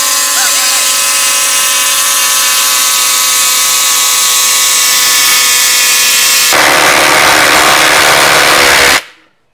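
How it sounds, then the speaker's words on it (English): Two cordless impact drivers, a Hercules and a Flex, set to speed 3 and driving 8-inch lag screws, a loud continuous high whine and rattling hammer buzz that shifts pitch partway through, then cuts off abruptly. "Both impact drivers still on speed 3"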